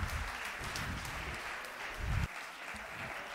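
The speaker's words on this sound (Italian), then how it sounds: "Un applauso, grande Lello." An audience in a cinema-theatre hall applauds a singer at a friendship benefit evening, a dense steady clapping that swells briefly and then thins toward the end, heard from within the room.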